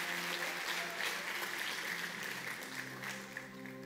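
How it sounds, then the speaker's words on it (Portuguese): Applause from a church congregation, a steady broadband wash of clapping lasting throughout at moderate, even level, with faint sustained tones underneath. "A salva de palmas a Deus pela vida dela."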